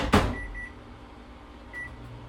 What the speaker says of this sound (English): I'm going to throw it into the microwave.